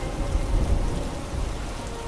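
Heavy, steady rain pours down with deep rumbling thunder beneath it, a dense continuous storm effect for a film scene of a great biblical flood.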